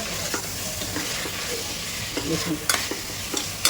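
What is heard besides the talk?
chicken and spices frying in a pan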